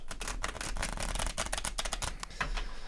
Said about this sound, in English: So put a couple more shuffles on this deck.